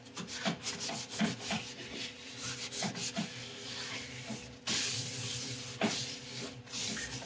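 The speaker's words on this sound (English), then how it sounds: "Then once again, wipe off any residue of isopropyl alcohol." A cloth rubs isopropyl alcohol residue off a turned wood bowl with repeated soft, close swishing strokes in an irregular rhythm, quiet and without speech.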